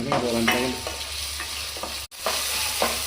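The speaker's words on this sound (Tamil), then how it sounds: "தக்காளியும் நல்லா வதங்கணும் அதனால் வந்து தக்காளி வதங்குற அளவுக்கு நல்லா கிளப்பி விட்டுக்கிட்டே இருங்க" Tomatoes with salt and curry leaves sauté in a pan for an anchovy fish gravy, giving a steady, close sizzle broken by scraping stirring strokes, with one brief dropout.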